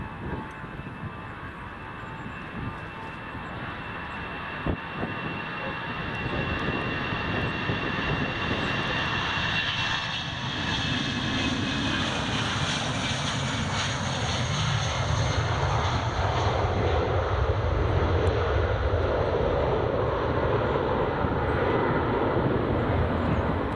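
A Finnair jet departs Edinburgh Airport bound for Helsinki, a steady broadband engine roar building louder over the stretch and holding strong toward the end, heard alone at an airfield.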